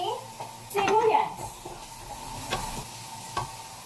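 Garlic, then onion, sizzles in about two spoons of hot oil for chicken-feet adobo, a short burst of frying followed by quieter crackling, with a voice talking over it.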